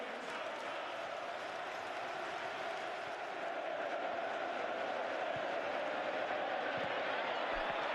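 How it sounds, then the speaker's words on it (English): A large stadium crowd at a 2006 Premier League match between Chelsea and Manchester United applauds and murmurs in a steady, distant wash of clapping and cheering, filling the whole stretch without a break. "And Abramovich leads the applause."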